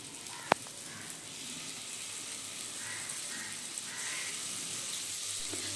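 Pointed gourd paste added to a pan of cooked-down onion and tomato, frying with a steady close hiss and sizzle after one sharp clack near the start, with no one talking.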